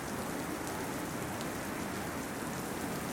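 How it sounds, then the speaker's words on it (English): Steady pouring rain falling outdoors at a harbor, a dense, even hiss of drops on surfaces, continuous and close with no voices. "I stood in the pouring rain"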